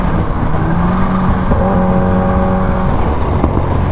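A Kawasaki Ninja H2 motorcycle pulls hard with a loud, close engine roar whose pitch climbs steadily through the run, heard amid traffic on the road.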